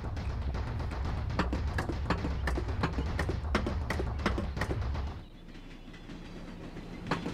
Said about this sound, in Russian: поскольку поезд едет медленнее, надо попробовать вот что